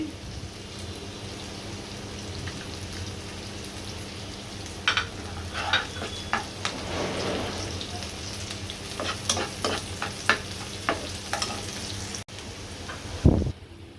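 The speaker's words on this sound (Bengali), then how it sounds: "এইভাবে আমি পেস্টটা বাদামি কালার করে ভেজে নিব" Masala paste for a koi fish bhuna curry frying and being stirred in a pan, a steady soft sizzle with scattered scraping clicks and small spattering pops, with a louder clatter near the end and no talking.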